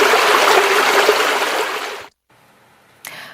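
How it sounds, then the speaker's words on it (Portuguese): Rainwater rushing down from a hill during a downpour, a loud, dense, steady flow that cuts off abruptly near the end, then a brief burst returns. "a quantidade de água que desce do morro, mesmo com essa chuva assim"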